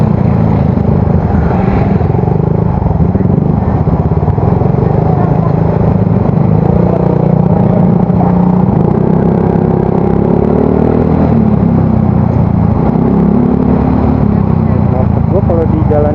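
Motorcycle with an aftermarket exhaust ridden along a street, a loud, close, continuous engine drone and rumble with slight shifts in revs and clattery road noise throughout.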